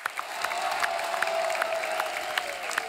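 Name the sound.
audience applause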